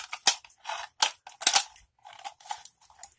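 Snips for a DIY oil burner bite through thin sheet metal in a series of sharp, crackling cuts, several quick bursts with short pauses between, close up and with no speech.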